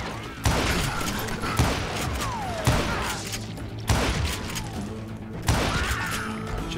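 Gunfire bursts repeatedly in roughly regular bursts in Call of Juarez: Gunslinger, loud and dense, with booming impacts and mechanical clatter between shots.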